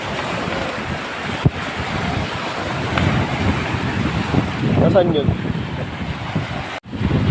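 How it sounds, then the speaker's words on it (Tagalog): Heavy wind buffets the microphone over a steady roar of big ocean waves, with a few people talking briefly near the middle. "Masyadong lumaki yung alon. Tsaka yung yung hangin. Masyadong lumakas."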